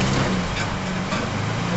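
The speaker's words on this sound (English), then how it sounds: "That's your exhaust." A Nissan Frontier pickup's exhaust rumbles low and steady while off-roading on a slippery mine trail, a short close engine drone with no talking.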